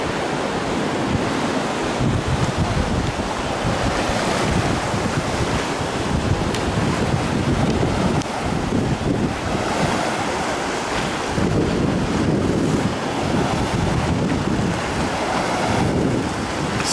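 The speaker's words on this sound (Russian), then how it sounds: "Сейчас тебя волны будут подталкивать назад." Sea waves roll and wash against a pier at Alanya in a constant, loud surge, with heavy wind buffeting the microphone throughout and no voices.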